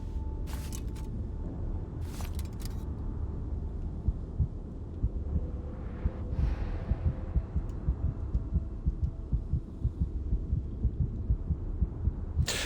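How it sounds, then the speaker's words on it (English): A low, steady heartbeat throb pulses repeatedly in the video game Starfield when the player's health is low, with a couple of brief bright clicks early on and no talking. "you can hear the heartbeat"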